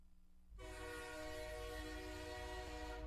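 A loud, sustained train whistle used as a show-intro sound effect starts abruptly after a brief quiet moment and holds a steady, rich chord of tones to the end, alone with no talking.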